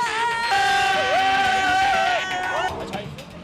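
Spectators at a Korean baseball ballpark, a crowd roaring and cheering together with a sustained, rising chanted tone that fades after about three seconds into looser hubbub, fairly loud.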